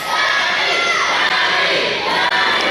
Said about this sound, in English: Of course they're going to cheer for a Donnie Dollars or a Brad Attitude.